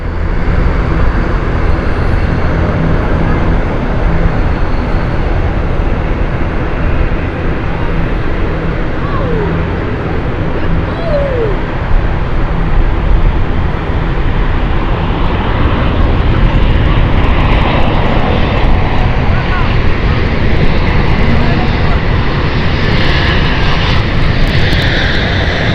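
An ATR turboprop airliner at London City makes a steady, loud broadband drone that holds throughout with little change, while radio chatter and voices talk over it.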